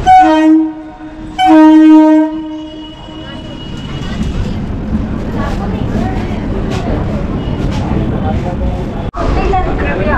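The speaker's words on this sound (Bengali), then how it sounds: "বিধাননগর থেকে এই মুহূর্তে ট্রেন ছাড়লো" A Dankuni local train at Bidhannagar station sounds two long, loud horn blasts, then pulls away with a rising rumble and clatter of wheels under nearby talk.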